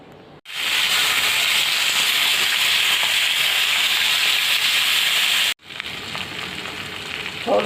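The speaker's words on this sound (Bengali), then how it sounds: "লবণ মেখে রাখার পর মাছগুলো আমি অল্প তেলে হালকা 2 পিঠ ভেজে নিয়েছি" Fish coated with turmeric, chili powder and salt frying lightly in a little oil, giving a loud, steady, close sizzle that cuts out briefly near the end and then resumes.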